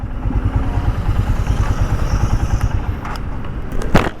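A heavily accessorized Royal Enfield Himalayan motorcycle engine runs with a steady, close, pulsing thump and mechanical clatter throughout, a few sharp clicks near the end.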